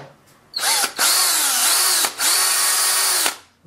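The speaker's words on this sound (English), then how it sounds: "It's an 18-volt drill." An 18-volt power drill whines up to a loud, steady high-pitched spin close by, cutting out briefly twice before revving again and then stopping.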